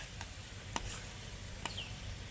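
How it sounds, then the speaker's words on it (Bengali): Soft, steady sizzling of goja, fried dough sweets, in oil as they are turned, with a few faint clicks and pops over a low background hum. "উল্টে পাল্টে আমি ভালো করে গজাগুলোকে ভেজে নেব"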